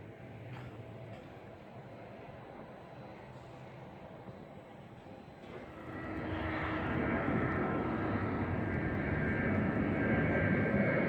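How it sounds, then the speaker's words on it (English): Jet aircraft at Osaka airport, heard from an observation deck near the passenger terminal: a steady distant engine roar swells noticeably louder about halfway through as a plane passes closer, with no one speaking. "to observe the jets coming in and out of the airport"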